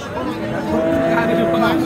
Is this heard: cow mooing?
yes